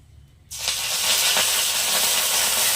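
Two dried red chillies and curry leaves hit hot oil, bursting into a loud, sustained sizzle that starts abruptly after a quiet moment and continues close up.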